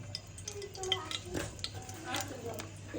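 Bay leaf and onion go into hot oil for a beef curry, giving a soft, steady sizzle with occasional stirring and light scrapes of a utensil against the pan, close and fairly quiet.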